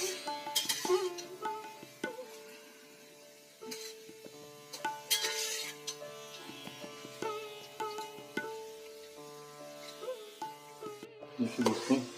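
Onions frying in a pan for Awadhi murgh masala, with a steady close sizzle broken by repeated clinks and scrapes of a spoon stirring against the metal, fairly loud and with no talking.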